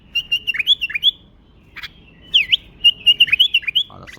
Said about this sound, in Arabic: هذا البلبل اللذيذ